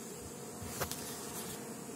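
A steady hum of many Carniolan honey bees buzzing together, close and continuous, with a louder bee passing near midway.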